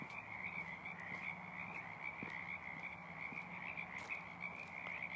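A dense chorus of frogs croaks continuously near a busy traffic intersection, a steady high-pitched trilling wall of calls layered over a low rumble of passing vehicles.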